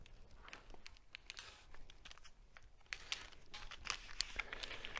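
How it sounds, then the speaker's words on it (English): Packaging for Kawasaki A-arm braces being opened: close, irregular crinkling and rustling of plastic and paper, with soft handling bumps, growing busier and louder in the second half, no talk. "I'm going to open up our packaging."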